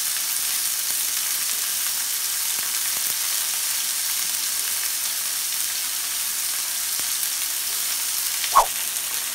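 Burger patties sizzle steadily in a pan, a continuous bright hiss of frying that holds even and unbroken, with one brief clack near the end.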